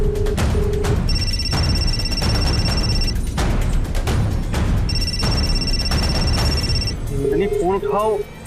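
A telephone rings in two long electronic trills, loud and close, over dramatic background music and thumping sounds, with a voice speaking near the end.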